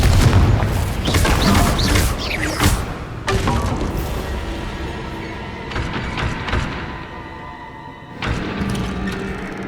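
Confringo fire spells blast in Hogwarts Legacy, loud booming explosions repeating in bursts with crackling debris and rumbling tails, dense and close throughout.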